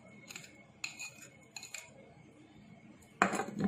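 Meatloaf mixture being stirred in a bowl, a few quiet scraping clinks of a utensil against the bowl in short bursts, ending with a louder scrape, close and faint.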